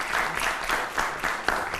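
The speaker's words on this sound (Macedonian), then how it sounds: "Заслужуваат и тие аплауз заради посветеноста." Studio audience applauding for a contestant's parents on a television show, a steady even patter of many hands clapping at moderate distance that sustains through the whole moment.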